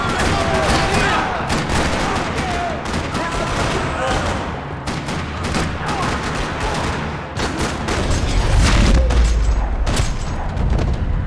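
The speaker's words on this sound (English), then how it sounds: "Another parking lot rattling with gunfire." Rapid bursts of gunfire rattle almost nonstop in a parking lot in the video game Max Payne 3, loud and dense, with occasional heavier booms, in a busy game soundscape.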